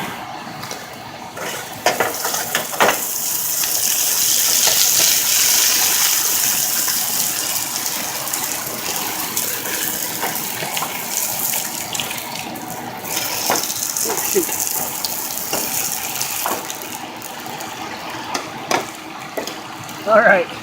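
A hot blade being quenched in a water quench tank gives a rising bubbling gush that swells and then fades, with scattered clinks and knocks as someone talks over it.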